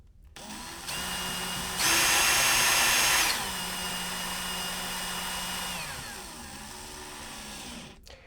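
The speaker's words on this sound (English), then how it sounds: "Once they're threaded, then I'll usually use power driver, save a little time." Power driver sinking screws for a Schlage keyed entry lever lock through an extension bit. Its motor whirs steadily, rises to a louder burst partway through, then slows and winds down.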